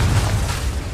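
Deep, booming blast from the Confringo fire spell in Hogwarts Legacy, a dense low rumble that fills the whole short moment with no pause.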